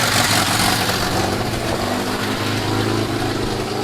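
A ZAZ Tavria car engine running steadily at idle, a loud, continuous low rumble with a growling tone and no speech over it.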